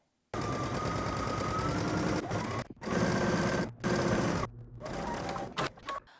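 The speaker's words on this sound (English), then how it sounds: "We're gonna pivot at the underarm seam and then sew down our sleeve." A sewing machine runs a quarter-inch seam along a cardigan sleeve, pivoting at the underarm. It whirs loud and close in long runs, with brief pauses between bursts.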